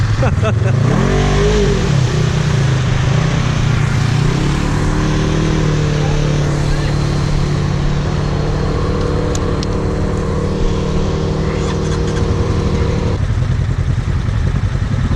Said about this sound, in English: Watch me spin this forward wheel.